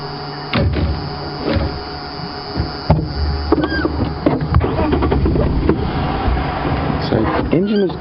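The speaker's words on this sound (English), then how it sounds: "Engine is turning over." A safari vehicle's engine cranks repeatedly without catching while the vehicle sits at a steep angle, giving a loud, uneven churning with bursts and clunks over about eight seconds.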